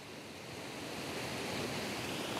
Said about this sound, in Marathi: पाणी कसं वाहतंय. ती बघा नदी. ती नदी वाहते.